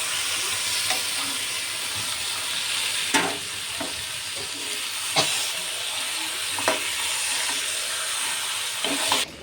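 Marinated mutton with yogurt, salt, turmeric and spices sizzling and frying in a pan, a steady hiss with occasional stirring clatters, close and alone without speech.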